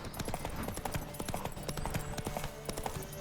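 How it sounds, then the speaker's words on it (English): Horse hooves clip-clopping steadily in The Witcher 3 video game, a regular trotting rhythm over ambient game sound. "Лошаді."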